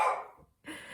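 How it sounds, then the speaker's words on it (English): A single close dog bark, loud and sharp, then a brief gap and a second softer yelp-like sound, heard indoors with no talking. "My dog is probably going to start barking here in a second"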